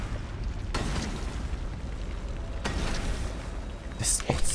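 Cannons firing in the LEGO The Incredibles video game: two sharp booming blasts about two seconds apart, with a quicker burst of pops near the end, all loud over a steady rumbling game backdrop.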